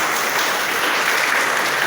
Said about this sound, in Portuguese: Nós damos palmas para ele.